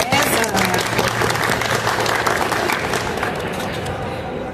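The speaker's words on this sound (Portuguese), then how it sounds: "Uma salva de palmas para o César." Audience applause at the Beauty Fair 2025 press conference greets the CEO of Beauty Fair. The clapping is steady and dense throughout, fading slightly toward the end, and a voice can be heard faintly over it.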